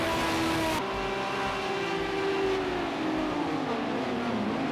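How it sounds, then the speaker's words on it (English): Race cars, including a Porsche, in Project Cars 2 at Fuji in a Group 5 race, a loud near engine drone that shifts pitch as cars close and pass, with a long sliding tone and no talk. "Graham takes his Porsche past."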